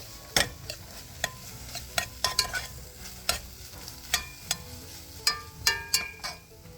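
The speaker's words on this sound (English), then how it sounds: "it's important to cook the tomato paste a little bit" Tomato paste cooks in a pan for a lamb stew, a quiet sizzle broken by a dozen sharp clacks and scrapes of a utensil stirring against the pan at an uneven pace.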